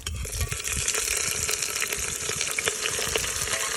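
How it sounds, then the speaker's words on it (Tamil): Chopped onions frying in hot oil in a pan while making biryani, a continuous close sizzle with crackling pops and occasional light stirring clinks, steady and unbroken with no voices. "இப்போ நம்ம வெட்டி வச்ச வெங்காயத்தை உள்ள மெதுவாக சேர்த்துக்கலாம் ஃப்ரெண்ட்ஸ்"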